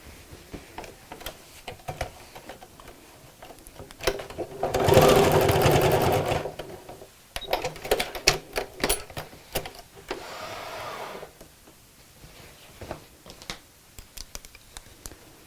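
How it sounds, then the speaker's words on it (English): A sewing machine runs a long edge stitch through denim in a brief steady burst, then a second shorter run, surrounded by small clicks and handling sounds of fabric. "I can use a longer stitch on my sewing machine now"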